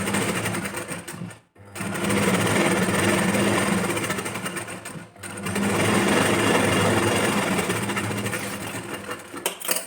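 A sewing machine runs steadily, stitching the seam of a back-open princess-cut blouse, with a loud continuous whirring hum broken by two brief pauses.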